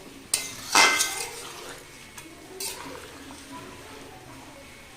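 Cooked chicken and potato curry being mixed with garam masala in a pan: a couple of sharp metallic clanks and scrapes of a spoon against the pan, then quieter stirring.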